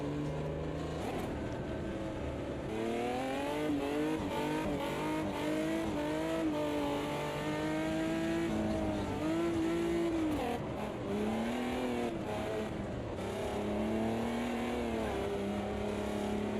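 A big V8 race car roars through a racing video game, its engine note climbing and dropping continuously through gear changes and corners, loud and unbroken, with brief tire squeal.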